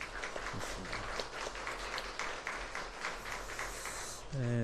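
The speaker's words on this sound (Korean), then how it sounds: "우리 은혜로운 찬양을 해주신 우리 성가대 친구들에게 감사의 박수 하겠습니다" A congregation at a Hanyang University chapel service applauds the choir, a soft, diffuse spread of clapping at a distance under low room noise, ending with a brief tonal sound.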